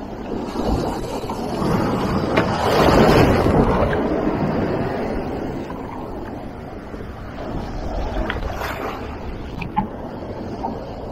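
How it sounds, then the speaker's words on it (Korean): Huge Atlantic ocean waves roll in around a boat, a loud, continuous wash and rumble of surging water mixed with wind buffeting the microphone, swelling and easing over several seconds without speech. "어마어마한 파도가 밀려옵니다, 지금."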